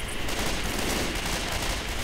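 Dense gunfire in the zombie shooter Left 4 Dead 2, a steady unbroken barrage of rapid shots that runs loud and close for the whole stretch.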